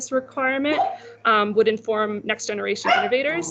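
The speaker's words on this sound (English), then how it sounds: "sorry about my dog" A small dog yips and barks a few times in the background during a workshop presentation, faint and partly masked by a man's continuous speech in the foreground.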